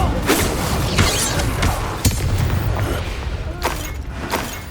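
Incendiary fire spell blast in the Hogwarts Legacy video game, a loud roaring rush of flame with scattered sharp cracks and crashing impacts across several seconds, dense and close.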